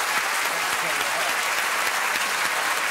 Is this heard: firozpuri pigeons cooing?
no